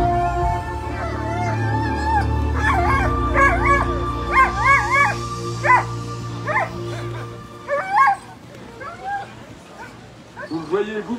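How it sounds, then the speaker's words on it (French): Sled dogs at the start line of a mountain sled-dog race stage in Megève bark, yip and howl excitedly in a dense, overlapping chorus, while a loud commentator talks over them throughout. "Vous voyez vous-même la rapidité d'arrivée de ces chiens sur la ligne de départ."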